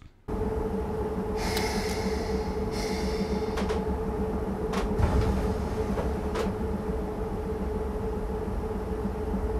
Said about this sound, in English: at least on departure, we can enjoy the sounds of those glorious compressor sounds